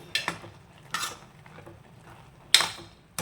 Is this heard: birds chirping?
no